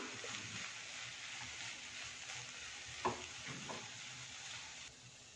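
Cabbage is lightly sautéed in a pan, making a faint, steady sizzle with soft stirring scrapes and one small clink partway through, and no talking.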